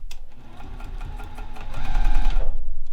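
Sewing machine stitching a seam in soft vinyl for a paper-pieced pin cushion, a steady rapid mechanical whir that grows louder and denser toward the end, close by with no talking.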